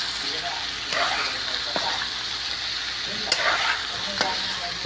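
A spoon stirs and mixes food in a sizzling pan, with scraping strokes and sloshing bursts every second or so over a constant frying hiss.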